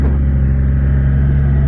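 Triumph Rocket 3 GT motorcycle engine holds a loud, steady, deep rumbling rev close by, one continuous drone throughout.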